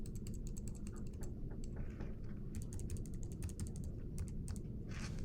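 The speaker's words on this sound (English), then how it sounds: "I'm just using the up and down arrows on the keyboard." Computer keyboard arrow keys are tapped repeatedly, a rapid series of faint, crisp clicks running over a steady low background hum.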